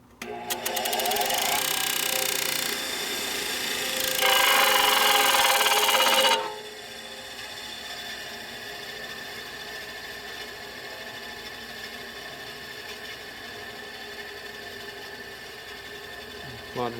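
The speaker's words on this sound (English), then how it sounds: "So I grind a little bit further over." Grinding a Harley-Davidson panhead rocker arm for a stroker engine rebuild: a loud, steady high-pitched grinder whine runs for about six seconds, rising briefly in pitch and intensity before cutting off, followed by quiet shop ambience.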